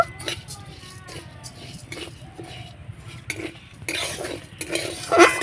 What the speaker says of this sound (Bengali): খন্তিটা দিয়ে অনাবর্ত নাড়াচাড়া করতে হবে